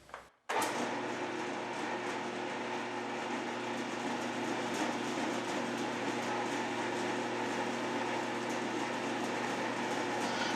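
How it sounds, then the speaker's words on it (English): A round column mill reams a precision hole at reduced speed, starting up after a brief clunk and then running with a steady, loud mechanical whir and hum, with no talk. "So I'm going to reduce the RPM, ream my second B hole"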